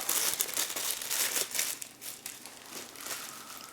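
Foil wrapper peeled off and crumpled from a round of La Bonne Vie Camembert, a steady close crinkling and rustling that continues throughout with small dips, no talking.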